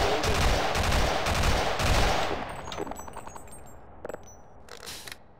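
Enemies firing on the player in Half-Life Sven Co-op: dense, loud rapid gunfire for the first couple of seconds, thinning into scattered shots and metallic clinks as it fades.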